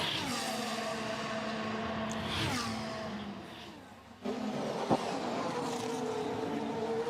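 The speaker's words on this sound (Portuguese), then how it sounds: "Bottas calçou pneus macios e está abrindo a volta dele agora." Formula 1 car on soft tyres starting a flying lap in practice at the Bahrain Grand Prix, a sustained high-pitched engine whine with shifting pitch and a brief dip before the roar returns, steady and fairly loud.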